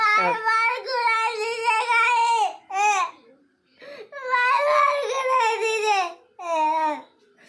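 A young boy cries and wails loudly in long sobbing bursts with brief pauses, close to the listener, his voice rising and falling as he sobs.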